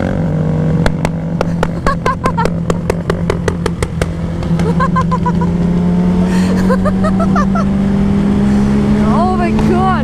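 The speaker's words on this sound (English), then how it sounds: "It sounds like a fucking like motorcycle drive-by right now." Motorcycles driving by on a street during a video game, engines droning loud and steady under a burst of rapid gunfire-like cracks, with people talking over it.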